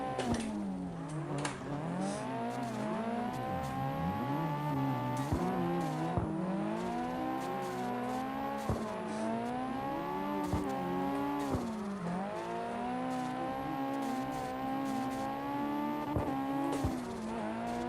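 In CarX Drift Racing Online, played on a Logitech G920 wheel, a car's engine revs hard and its pitch sweeps up and down as the handbrake throws it into drifts. Sharp tire squeals and shift clicks cut in repeatedly, loud and continuous.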